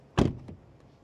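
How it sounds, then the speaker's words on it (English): Mazda 6e car door shuts with a single solid thunk, close up, followed by a faint softer knock as it settles, with quiet surroundings and no talking. "Door closing sound, it's actually quite okay."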